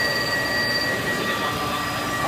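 CNC lathe running a dynamic roughing toolpath with flood coolant on, giving a loud, steady wash of hiss and grinding noise with sustained high-pitched tonal whines running throughout, no voices.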